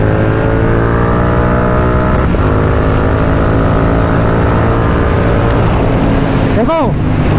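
A motorcycle fitted with an aftermarket Red Rooster exhaust drones loudly and continuously close by, its engine pitch dropping as it shifts down, with a brief sweeping tone near the end.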